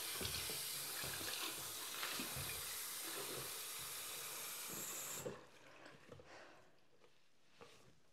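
Water runs steadily and loudly from a tap in a bathroom under demolition, a dense rushing hiss for about five seconds that then cuts off, leaving quieter scattered knocks and faint room noise.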